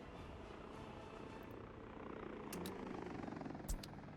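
A helicopter flies in the Workers & Resources: Soviet Republic game, a steady, fairly loud rotor and engine drone that holds unbroken throughout, with no voices over it.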